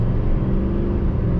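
A 2022 Chevy Silverado 3500 Duramax diesel dually under hard acceleration, its deep engine rumble loud, steady and close throughout, with no talk over it.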